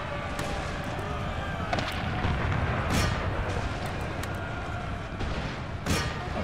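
Cannons and musket fire in the Empire: Total War video game boom over a dense, continuous battle din, with occasional sharper blasts standing out from the steady rumble and no clear pause.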